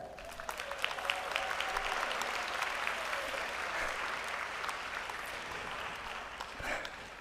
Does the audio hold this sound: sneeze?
no